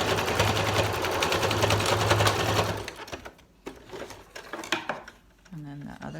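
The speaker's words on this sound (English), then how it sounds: "I'm going to back stitch at the top and the bottom" Sewing machine stitching and back-stitching pleats on a fabric mask, running loud and steady for about three seconds before stopping, followed by quieter handling clicks and fabric rustle.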